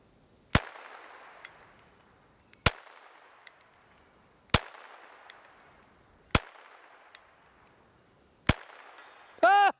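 Five sharp, evenly spaced gunshots crack from a Meligun MG-22 .22LR revolver knife fired outdoors, each followed by a short ringing decay, with a faint metallic ping after some shots and a brief tonal beep at the end.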